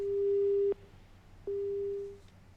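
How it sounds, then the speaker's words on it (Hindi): A telephone busy signal after a disconnected call plays as two long steady beeps separated by a short gap, clear and fairly loud over faint background noise. "फोन डिस्कनेक्ट हुआ उनका।"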